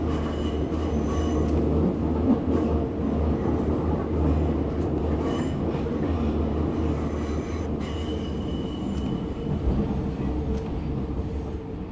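Subway train running in the SubwaySim 2 video game, a steady loud rumble of wheels on rails with faint squeals and clicks, continuous throughout with no talk.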